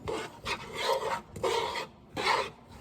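Rhythmic scraping strokes of a utensil stirring penne alla vodka in a pan, three long rasping sweeps close by with short pauses between, no voices.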